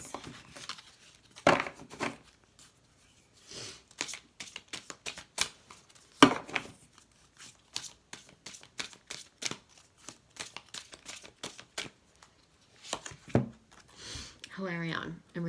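Oracle cards shuffled by hand, quick irregular bursts of riffling and slapping card sounds close up, separated by short pauses, with a person talking near the end.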